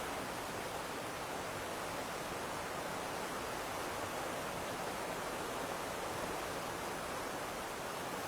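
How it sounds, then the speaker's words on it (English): Rushing torrent of a waterfall at Randolph's Leap, a loud, steady broadband roar of pounding water that continues without a break, close by and with no other sounds. "this is more than a cascade, this is a torrent"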